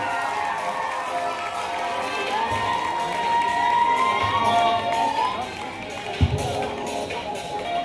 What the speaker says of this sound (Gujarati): એકવાર જોરદાર ઉત્સાહ સાથે અને તાળીઓનો અવાજ સાથે આપણે ધોરણ 10ના દરેક વિદ્યાર્થીઓને વધાવીએ